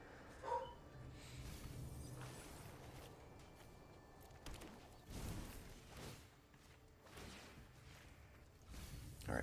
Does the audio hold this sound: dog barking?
yes